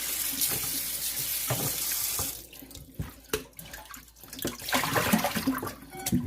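Tap water runs into a sink while shredded potatoes are rinsed of starch and then drained, a loud, continuous rush that breaks into sporadic splashes and clatter before the flow picks up again.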